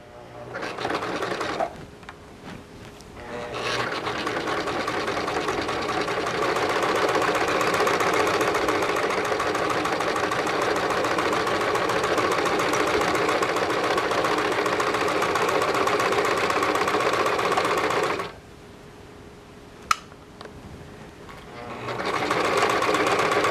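A sewing machine stitches a separating zipper at a slow, steady pace, a loud continuous mechanical whir that stops for a few seconds before starting again, with no talking.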